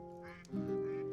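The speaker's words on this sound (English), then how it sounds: "I do hear some quacking ducks." Quacking from video game ducks in Stonehearth comes in briefly and moderately loud over sustained tonal background music, with no talking.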